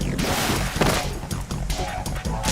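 Grenade blasts and rapid bursts in Metal Gear Solid 2, a dense run of sharp cracks and booms repeating over a constant noisy bed, loud and close.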